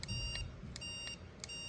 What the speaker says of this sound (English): that beeps on the collar